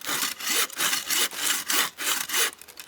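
A hand saw cuts a directional notch into a standing tree, with steady back-and-forth wooden rasping strokes, about six even pulls, close and clear with no talk.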